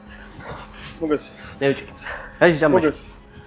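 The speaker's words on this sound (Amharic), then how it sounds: "ውሻ" A dog whimpers in short high yelps, then lets out a quick run of yipping barks, close and fairly loud, with quiet pauses between.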